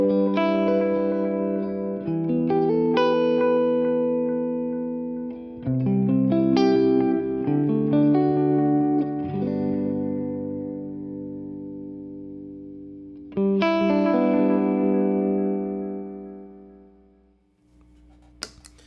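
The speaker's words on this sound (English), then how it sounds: "It's going to sound kind of like the warp and warble of a vintage tape delay." An electric guitar playing through a vintage-style analog delay pedal with modulated repeats, heard as strummed chords and notes followed by warbling, echoing tails that swell and fade, with no talking until a click at the end.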